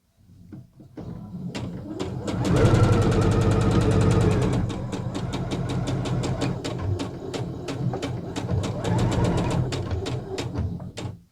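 Sewing machine stitching dress fabric, running loud and close in a steady rapid clatter for several seconds, its needle beats ticking evenly, with no talking.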